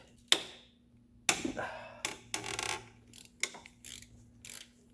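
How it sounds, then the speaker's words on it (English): A ratchet wrench loosens a bolt on a 2016 Subaru WRX STI during an AC compressor replacement, giving a series of sharp, close metallic clicking bursts separated by brief pauses. "We're gonna have to use a ratchet wrench on that guy there."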